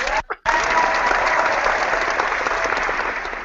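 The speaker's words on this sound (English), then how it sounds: "I'm applauding myself." Loud, dense applause fills a podcast recording, cutting in after a brief dropout and then holding steady, with faint voices underneath.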